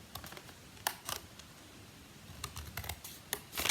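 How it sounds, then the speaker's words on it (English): Scissors snip cardstock up to a score line for a fancy fold card, giving sharp, crisp cuts in small clusters with quiet pauses between them, close and clear with no talking. "So now I need to snip these to the centre score line"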